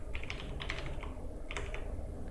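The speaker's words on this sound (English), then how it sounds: "go to start and type the services" Rapid keyboard typing on a Windows 10 computer, a quick run of light clicking keystrokes in bursts, fairly close but soft, with no voice.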